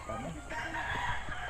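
A rooster crows in a farmyard setting, one brief cock-a-doodle-doo call rising over steady background noise, fairly close and moderately loud.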